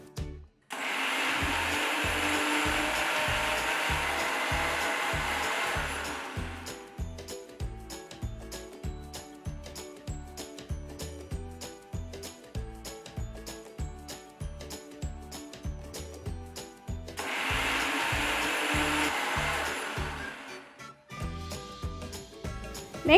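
An electric mixer grinder blends sautéed onions and chopped tomatoes in a mixer jar, running in two loud, whirring bursts, one near the start and one near the end, with a steady rhythmic beat between them.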